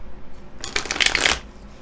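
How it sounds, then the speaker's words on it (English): A deck of tarot cards being shuffled by hand, a brief burst of riffling paper flutter that swells and then stops, close and fairly loud with no voice over it. "I would like you to think of a question right now while I'm shuffling this deck"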